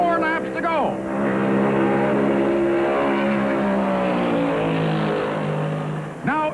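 1972 NASCAR Winston Cup stock cars racing in the Southern 500 at Darlington, a loud sustained engine roar with rising and falling pitch as the pack runs close together, under a commentator's voice.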